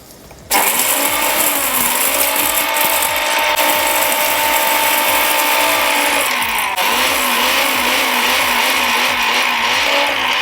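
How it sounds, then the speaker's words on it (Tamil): Mixer grinder pulverising cumin, coriander seeds and dried chillies, starting abruptly with a loud, steady high-pitched whine and rattling clatter of the spices, with a brief pitch dip near the end. "சீரகம், தனியா, காஞ்ச மிளகாய் இது எல்லாத்தையும் நம்ம மிக்சியில் நல்லா அரைச்சிருவோம்"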